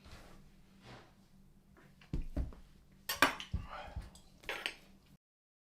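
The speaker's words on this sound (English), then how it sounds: "With the knife, I made some cuts and I began to hollow it out with a spoon" A cheese knife and a spoon work a turnip on a cutting board, giving a run of irregular clicks, scrapes and taps that grow busier and louder midway, with no talking.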